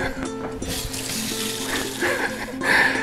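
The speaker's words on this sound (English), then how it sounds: "Let me wash my hands real quick" Hands being washed under a running kitchen tap, a short close splash of water with rubbing and shifting flow, brief and fairly loud.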